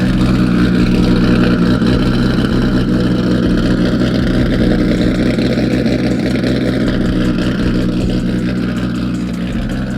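A 1000HP big-turbo Infiniti G35 engine runs loud and close, holding a deep, steady drone with slight rises in revs throughout, with no voices.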